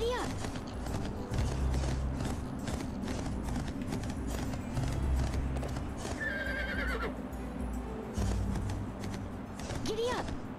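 Horse galloping and neighing in the video game Barbie Horse Adventures: Wild Horse Adventures, with rhythmic hoofbeats under game music and a couple of whinnies, while a player talks over it.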